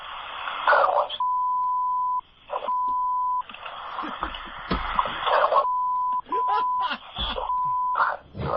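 Steady censorship bleep tones cut repeatedly across commercial radio talk-show audio, several sustained beeps of about a second each alternating with bursts of muffled voices, loud and close.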